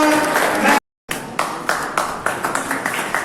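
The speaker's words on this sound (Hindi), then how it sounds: "जोरदार तालियां" Hands clap in a steady, rhythmic unison beat at an IMC meeting and celebration, loud and close, with a brief dropout to silence early on.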